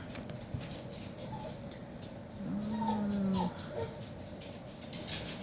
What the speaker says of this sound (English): the beagle has decided he's going to go from door to window and whine